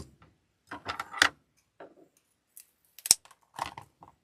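Scissors trim a decoration stem shorter for a Christmas coffee cup arrangement, giving a few quiet, sharp snips separated by pauses in an otherwise hushed room.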